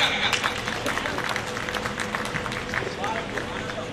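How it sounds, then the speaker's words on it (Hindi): A live audience at a Hindi comedy poetry gathering claps for a poet taking the stage, continuous moderate applause with crowd murmur underneath. "मैं इस औघड़दानी के लिए ये नहीं कहूंगा आप तालियां बजाएं, आप खुद बजा देंगे"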